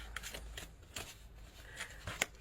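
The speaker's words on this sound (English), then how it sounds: "we will cut the deck" A deck of tarot cards being cut and handled during a Libra reading, with soft papery riffles and light card slaps scattered across a couple of seconds, close and fairly quiet, with no talking.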